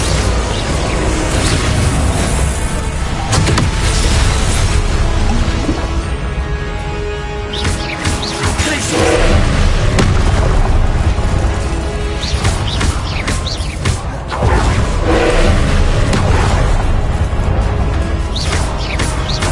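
A Confringo blasting spell erupts in a wizard video game as a chain of loud booming bursts and crashes, several distinct blasts spread across a dense, noisy din with no speech.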